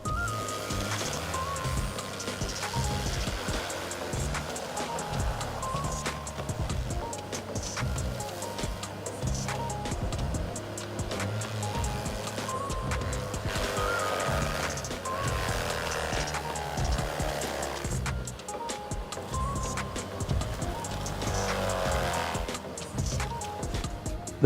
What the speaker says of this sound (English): This machine crushes palm trees in just 2 minutes with high precision and